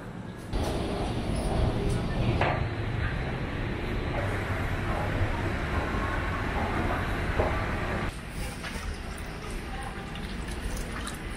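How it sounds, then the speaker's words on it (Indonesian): Loud, continuous rumble and rattle of a commuter train rolling past at Tanah Abang station in Jakarta, with clattering wheels, a shift in intensity partway through, and faint voices in the background. "Aku baru aja keluar dari stasiun Tanah Abang, tadi naik kereta sampai ke Tanah Abang dekat rumah."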